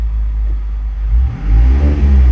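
A 2021 Mazda ND Miata idles with a deep steady rumble close by, then a Xineering blip module triggers a quick engine rev blip that swells the low growl before settling.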